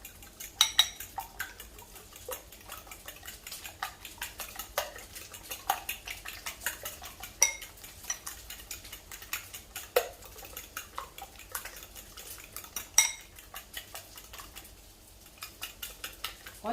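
Eggs being mixed in a bowl for carbonara, with repeated light clinks and taps of utensil against the bowl in an irregular rhythm, close but fairly quiet.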